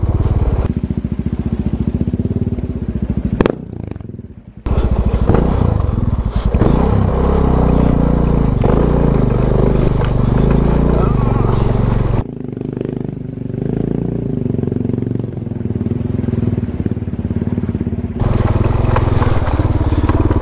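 A Suzuki DR650 dual-sport motorcycle rides through a muddy brown creek crossing, its engine steady and loud throughout with clattering and water disturbance, briefly dropping away twice before returning.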